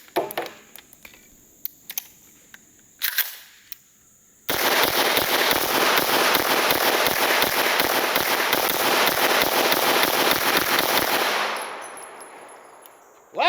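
Rapid automatic fire from an Angstadt Arms MDP9 9mm pistol, a dense burst of sharp cracks running about seven seconds and fading out, preceded by a few isolated shots and clicks.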